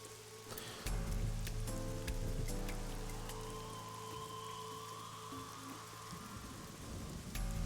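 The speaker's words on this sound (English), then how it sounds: "A parasol is getting pelted by the rain." In the video game AI: The Somnium Files, rain pelts a parasol near a fenced-off merry-go-round. The drumming is steady and dense, with sharper individual drops spattering throughout.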